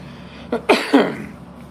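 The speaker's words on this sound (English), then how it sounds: "tickly cough's kicking my ass" A short cluster of soft coughs, two or three quick bursts close to the microphone in a quiet room.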